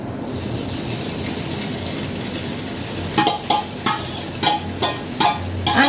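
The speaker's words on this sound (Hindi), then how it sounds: "अब मैं डायरेक्ट इसमें डालूँगी साबूदाना।" Sago pearls stirred into hot oil with peanuts in a pan, a steady low sizzle with a few sharp scraping stirs near the end, close and alone with no talking.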